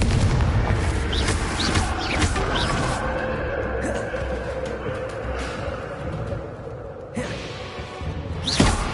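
Confringo fire-blast spells cast in Hogwarts Legacy, several booming bursts and crackling impacts over rumbling ambience, with a sharp blast near the end.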